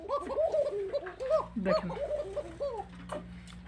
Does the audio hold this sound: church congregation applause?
no